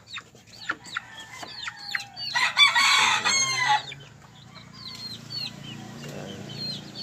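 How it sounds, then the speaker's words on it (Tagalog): Chickens and young chicks at feeding time: chicks peep in quick high chirps, hens cluck, and a loud burst of wing flapping stirs the flock midway. The sounds are nearby and go on throughout. "may mga sisiyo rin tayo dito guys. Papakainin natin yan sila."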